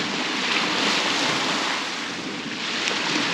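Water splashing and washing steadily around a paddler wading in a cold Patagonian lake in Argentina, a continuous broadband wash with some wind buffeting, no voices.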